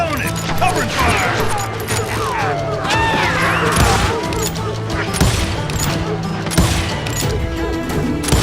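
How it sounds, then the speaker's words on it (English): Rapid covering gunfire in the Western shooter Call of Juarez: Gunslinger, a dense continuous clatter of shots and impacts layered with game music and shouting voices throughout. "Stay on it! Covering fire!"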